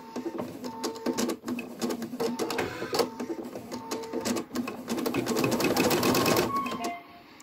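A Viking Designer embroidery machine stitches a tack-down outline on Minky fabric in a magnetic hoop, a rapid mechanical clatter of needle strokes with brief pauses and a busier, louder run near the end, no voices.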